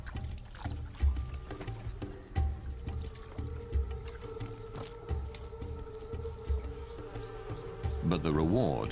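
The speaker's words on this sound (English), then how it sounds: "This is what the honey collectors have searched for: hives dripping with bees and honey." Wild honeybees swarm around hives dripping with honey in a tiger-inhabited forest, a dense, continuous buzz with individual bees droning close by, alongside low bumps and rustling.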